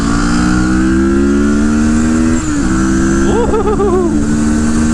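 A CFMOTO naked motorcycle accelerates while being ridden, its engine droning loud and close with a rising pitch, a brief dip at a gear shift, then climbing again under steady wind rush.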